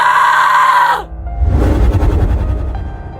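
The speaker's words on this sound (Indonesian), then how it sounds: "Siluman itu menjerit kepanasan." A demon woman shrieks in agony as flames burn her long hair: a loud, sustained high scream that breaks off, followed by a rough, roaring burst of noise that keeps going until the end.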